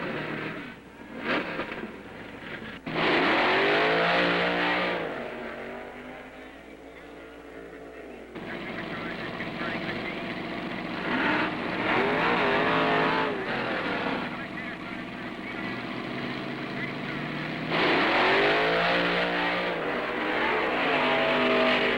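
Drag racing cars roar and accelerate down the strip at the 1968 Indy Nationals, with loud engine howls rising and sustained for long stretches, and a narrator talks over much of it.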